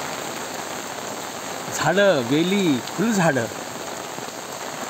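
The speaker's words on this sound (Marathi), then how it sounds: "दुधारी पाऊस कोसळतो आहे।" Heavy Ashadh monsoon rain pours down steadily in Umarga, a dense continuous hiss of drops hitting surfaces, while someone speaks briefly over the downpour.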